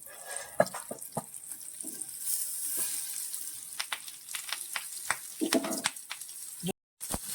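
Banana-leaf wrapped tuna masala laid on a hot tawa, a steady close sizzle with scattered taps and clatter of handling, brief voices mixed in.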